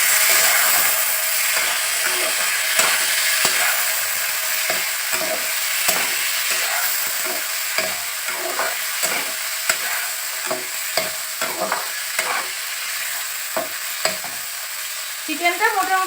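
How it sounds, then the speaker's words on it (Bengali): About 250 grams of chicken sizzles steadily as it is stir-fried in a pan for chicken soup, a constant close hiss with regular clinks and scrapes of stirring throughout, no talking. "এবার যে চিকেনটা আমি রেখেছিলাম সেগুলো দিয়ে দিচ্ছি"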